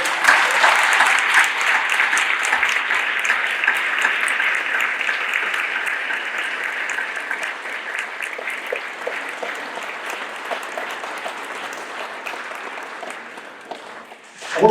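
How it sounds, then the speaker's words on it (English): Sustained, loud applause from a crowd at a Holocaust commemoration event in Dudley, honoring a speaker named Amanda; dense, steady clapping that slowly tapers over about fourteen seconds before stopping abruptly. "let's give Amanda a big round of applause"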